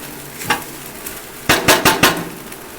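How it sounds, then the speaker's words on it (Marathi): Sabudana khichdi with crushed peanuts being roasted in a pan, a faint background crackle punctuated by one knock and then a quick run of four sharp spatula scrapes and taps against the pan, close up. "अशी लालसर होईपर्यंत मस्त भाजून घ्यायची"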